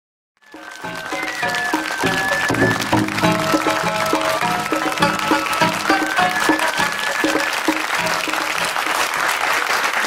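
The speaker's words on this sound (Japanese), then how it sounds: "温かい拍手を本当にありがとうございます。" An audience gives warm, steady applause to a rakugo storyteller after his performance, a dense wash of many hands clapping that rises quickly and holds loud to the end.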